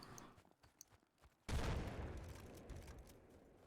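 A grenade goes off in a first-person shooter video game: a sudden loud, broad blast after a quiet stretch, followed by a long rumbling, crackling decay that trails off over a few seconds.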